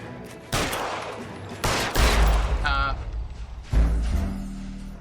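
Several loud gunshots in LA Noire, booming shots spaced a second or so apart with a brief tonal game sound between them and speech nearby.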